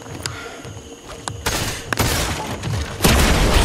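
Repeated gunfire in a Fortnite match, sharp shots scattered across the clip, building to loud bursts and a heavy booming blast near the end over busy game noise.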